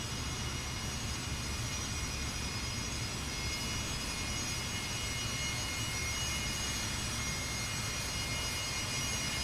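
Fokker F100 jet engines in Microsoft Flight Simulator 2024, a steady, even whine and roar with high tonal engine lines, constant and unbroken throughout, no voices.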